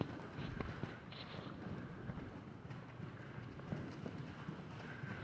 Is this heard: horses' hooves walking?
yes